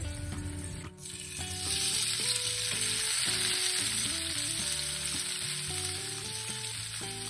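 Tomatoes dropped into hot oil with lightly browned garlic, setting off a loud, dense, continuous sizzle and crackle right up close, with a faint tonal hum underneath and no voices.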